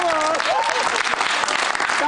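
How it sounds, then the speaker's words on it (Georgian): A studio audience on a Georgian night talk show applauds in a steady, dense burst of clapping, with a voice speaking over it. "აპლოდისმენტები, ხალხო."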